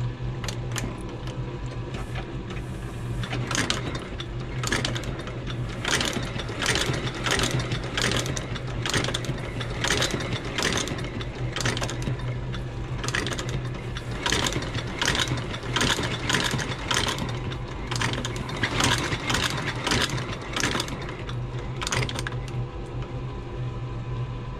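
A stitching machine sews a Vibram sole onto a Rocky work boot, running a steady mechanical hum with rapid rhythmic clacking stitch bursts repeating close by, with no talk.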